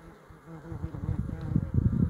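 Honey bees buzz around the entrance of a hive, a close, busy drone that swells louder toward the end, with no talking.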